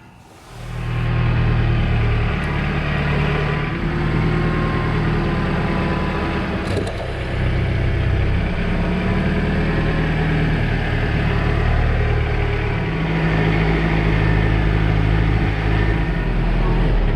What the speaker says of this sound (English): now I'm gonna hit this with the belt sander and the orbital sander